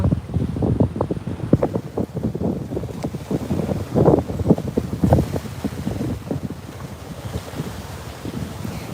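Wind and ocean water heard from a boardwalk built over the sea, with broad gusty wind buffeting and irregular low sloshing or lapping bursts throughout, moderately loud and close, no voices.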